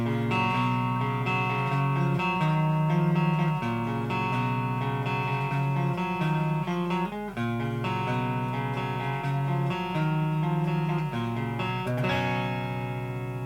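A clean electric guitar through a wet/dry metal rig plays sustained, ringing chords and arpeggiated notes, steady and full with no distortion, continuing without pause.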